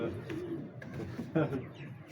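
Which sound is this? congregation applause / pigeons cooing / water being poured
pigeons cooing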